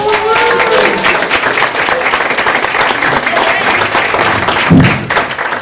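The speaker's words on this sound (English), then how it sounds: "Can we give them a round of applause?" Students at a PS236 breakfast gathering applaud a school band's debut, a loud, dense clapping crowd with a few thuds, tapering slightly and swelling again near the end.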